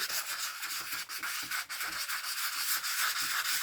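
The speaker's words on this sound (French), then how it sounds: "Et on va venir poncer" Sandpaper rubbing across a junk journal book cover in a workshop, a close, steady scratchy sanding with rhythmic back-and-forth strokes, quiet and continuous with no voices.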